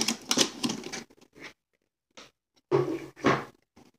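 Plastic toy packaging is torn and crinkled open nearby in short bursts of rustling and scratching, separated by quiet gaps.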